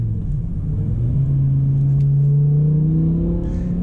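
A rear-wheel-drive BMW M6 with a V10 engine and manual gearbox accelerates hard, its loud, steady engine note rising in pitch as it pulls through the gear, heard up close from inside the car with no voices.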